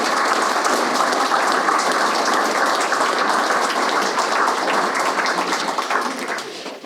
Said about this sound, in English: would you please give him a round of applause also?